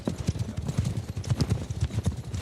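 Horse hooves clip-clop in a steady, rapid rhythm in the video game War Sails, loud and close, trotting continuously throughout.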